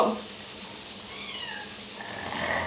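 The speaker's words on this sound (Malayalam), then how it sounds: "പൂച്ച കരയുന്നുണ്ടേ" A cat meows faintly a couple of times, thin wavering cries rising over a quiet background hiss, with no talking.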